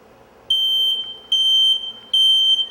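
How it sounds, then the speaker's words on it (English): A smoke alarm sounds three loud, piercing electronic beeps, each lasting about half a second to a second, with short gaps between them. "and that's a working smoke detector"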